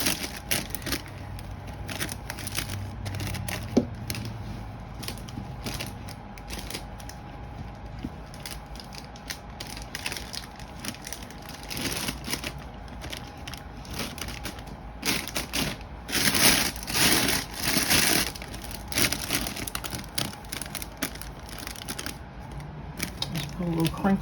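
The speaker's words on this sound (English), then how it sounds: "Put a little crinkle there in the ribbon." Ribbon being crinkled into a fall-themed bow for a gift basket: scattered soft rustles and crackles close by, with a denser burst of crinkling partway through.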